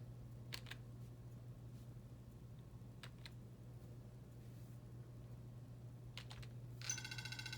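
A few sharp clicks from computer keyboard keys on a MIPS processor demo board sound faintly in scattered pairs over a steady low electrical hum, followed by a brief high electronic chirp at the end.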